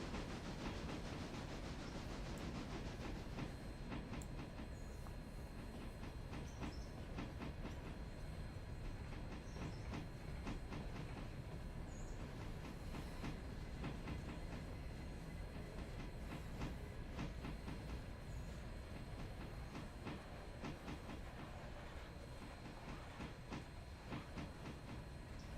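A locomotive in the Railroader video game rolls along rails with a constant dense rumble and repeated clicking of wheels over joints, steady and moderately close throughout with no pauses.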